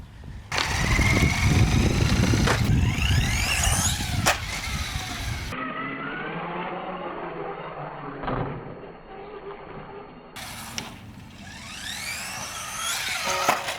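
A small Eachine EAT11 1/14-scale four-wheel-drive RC car runs around a skate park, its electric motor whining loudly and rising and falling in pitch as it speeds, brakes and takes small jumps.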